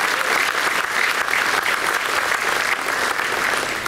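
A banquet audience at a university spring alumni reunion claps loudly and steadily throughout, a dense, unbroken wash of applause with no pauses.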